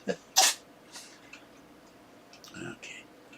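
A couple of small, sharp sneezes from a cat, followed by faint ticking and soft scattered sounds in a quiet room.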